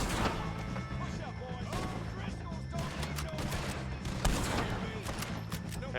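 Gunfire from the video game Red Dead Redemption 2: dense, loud volleys of shots and bursts crackle almost continuously in a busy game mix, with no clear spoken words.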